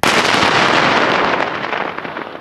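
A loud training blast set off by combat engineers during a military exercise booms at once and rolls out as a broad, roaring wash that slowly fades.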